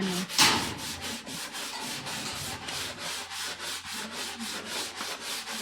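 Sandpaper rubs back and forth over wood in a steady, rhythmic scratching, close up, with a brief louder scrape near the start and no talking.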